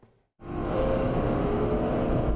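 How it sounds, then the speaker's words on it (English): Street racing cars roar at night, engines bursting in loud and close after a moment of near silence, then holding a heavy, steady rumble without let-up. "The sound of the engines roaring cut into the silence of the night."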